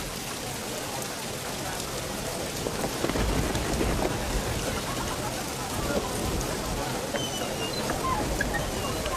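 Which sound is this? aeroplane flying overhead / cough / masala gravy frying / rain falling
rain falling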